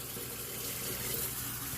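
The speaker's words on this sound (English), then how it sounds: "But let me rinse the face off real quick" Steady, full-bodied stream of tap water running into a sink while a face is rinsed before a straight-razor shave, a continuous hiss with no talk over it.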